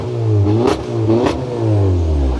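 A car engine revving hard as the throttle is blipped, loud and close, rising and falling in three strong surges with a brief rattle between them, with no talk.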